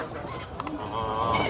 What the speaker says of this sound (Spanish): Muchas gallinas ponedoras